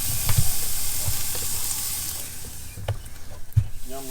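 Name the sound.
ribeye steaks sizzling on Kamado Akorn Jr grill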